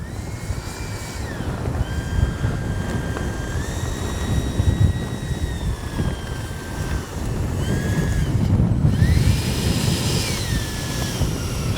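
Strong gusty wind roars at an RC jet flying field, a steady close buffeting across the microphone while a Freewing 90mm F-22 jet's turbine whine rises and falls overhead, with no speech.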